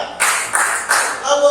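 A group claps together in a counted rhythm, with about four bright, close bursts of clapping separated by short pauses.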